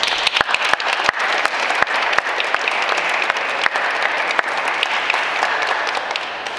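A congregation at a children's baptism ceremony in Guadalcázar, San Luis Potosí, claps steadily and fairly close, individual sharp claps popping out of the sustained applause.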